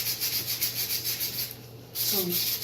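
Tape marks are scrubbed off a glass vivarium lid panel, a repeated rhythmic rubbing with even strokes close up, pausing briefly near the end before resuming.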